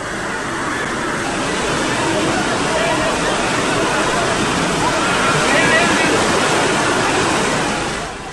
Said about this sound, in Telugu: నిజానికి ప్రవాహం అక్కడ డేంజరస్ స్థాయిలో ఉంది